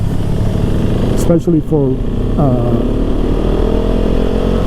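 A 2021 KTM 690 SMC R single-cylinder motorcycle runs in sixth gear while riding, its engine drone loud and steady as revs dip and climb between shifts, with a rider talking over it.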